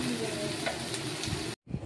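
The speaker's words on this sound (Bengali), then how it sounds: "তারপর আমি ভালোভাবে নাড়াচাড়া করে নেব।" Bitter gourd slices with turmeric sizzle steadily in a frying pan while being stirred, a loud continuous hiss with soft scraping, which cuts out abruptly near the end before a faint sizzle returns.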